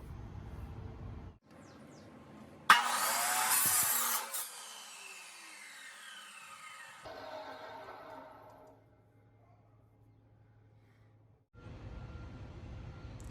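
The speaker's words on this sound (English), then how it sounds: "I'm gonna take this thing over to the saw and chop the end off." Saw cutting the end off an ash wood bat blank: a brief low motor hum, then a loud rising whine as the blade bites the wood, a long spin-down fading out, and the hum returning, close up without talk.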